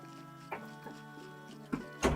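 Puppy whimpering in short, soft, high whines, a few quiet cries close by with small bumps between them.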